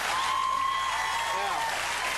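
An audience claps during a chat with an actor as he tells a story about a carnival. The applause is steady and fairly faint, with a voice and tonal sounds running over it.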